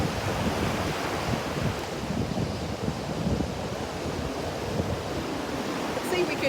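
Wind gusts across an outdoor microphone at sunset, a steady loud rumbling rush with surf-like swells and no break throughout.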